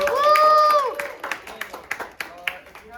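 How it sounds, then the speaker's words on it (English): A handful of people clap sparsely and briefly in a classroom-sized room at a high school robotics team's theme presentation, right after a short cheering voice. "But yeah, applause for them."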